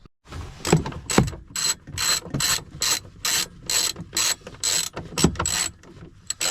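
A ratchet wrench loosening 10mm bolts on a Nissan 300ZX Z32 twin turbo clicks in a quick, steady rhythm of repeated ratcheting bursts, close and fairly loud with no talk.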